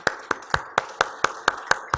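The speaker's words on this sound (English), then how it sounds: "let's make a huge, round of applause for everyone" Applause at a solar-industry leadership summit in New Delhi, heard as crisp, evenly spaced claps falling in a steady rhythm about four per second, fairly close and clear.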